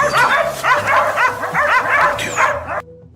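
Hunting dogs released on a rocky mountain slope yelp and bark excitedly in rapid overlapping bursts, fairly loud and close, before the sound cuts off near the end.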